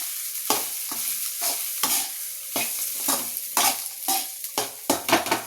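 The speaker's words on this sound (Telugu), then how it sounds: "స్టవ్ సిమ్లో పెట్టుకొని ఇలా మంచిగా కలుపుకోవాలి." Food being stirred in a pan on a stove over low heat, with a rhythmic series of close scraping strokes over a soft sizzle and no talking.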